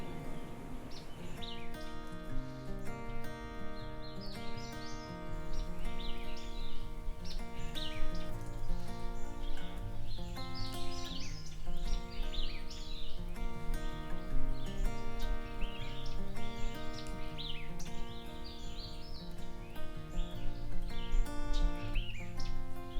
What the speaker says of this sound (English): It's a hooded warbler.